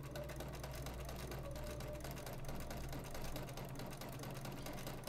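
A sewing machine runs steadily and without pause while stitching half square triangle quilt pieces, giving a continuous close motor hum with fast needle clatter.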